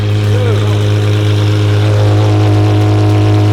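An Apollo IE hypercar engine idles loud and close, a steady deep rumble with strong low harmonics and a faint rise in pitch, some talk faintly audible over it.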